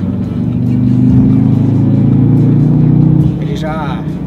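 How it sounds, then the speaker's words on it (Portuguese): An Audi TTS in Dynamic mode hums with a steady, loud engine drone that swells slightly, then eases off before a voice speaks briefly at the end. "o motor já se faz presente"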